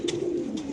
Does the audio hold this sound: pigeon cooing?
yes